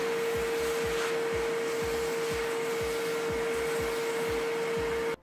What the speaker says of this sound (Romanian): Aspir un pic gaura